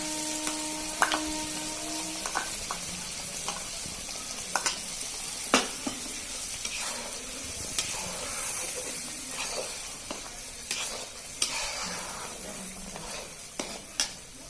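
Garlic paste and spices frying in a pan for a mustard fish curry. A steady bright sizzle and hiss runs throughout, broken by frequent sharp scraping taps of a spoon stirring against the pot.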